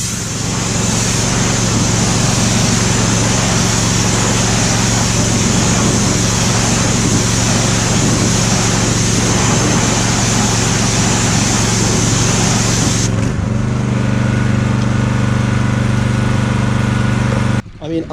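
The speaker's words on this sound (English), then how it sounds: "I didn't do anything other than just power wash it a little bit" A pressure washer rinses spoked car wheels with a loud, continuous spraying hiss over a motor drone. The tone shifts abruptly near the end, then the sound briefly cuts off.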